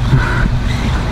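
A VRX RH1045 Octane XL 1:10 scale RC monster truck runs at full throttle through thick backyard grass, its electric motor whining steadily and fairly close, with a continuous loud drone and rumble across the whole stretch.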